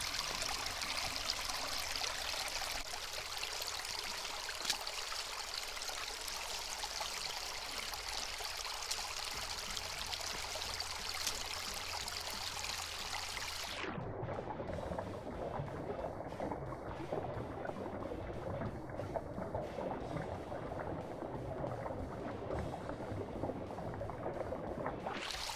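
Water rushing steadily through a sluice while a bucket of gold-bearing material is run, a continuous faint splashing flow that changes character partway through as the stream shifts, with no talking.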